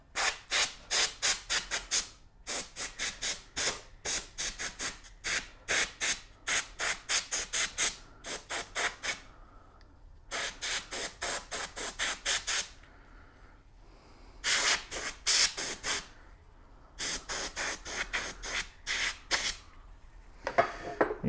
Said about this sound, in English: we're gonna do some air duster and we'll get that out of there